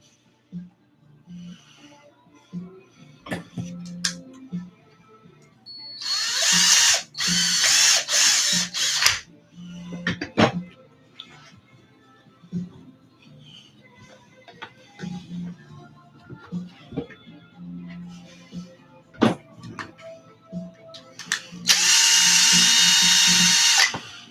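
A power drill whirs in two loud, close bursts while driving screws into an RC car's drivetrain. Scattered clicks and handling noises of the parts fill the gaps, with no voices.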